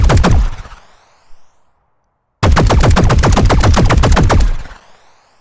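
Synthetic gunshot sound effects built in Weaponiser: a rapid burst of automatic fire, then a pause of silence, then a second longer burst of evenly spaced shots that rings out and decays, loud and alone.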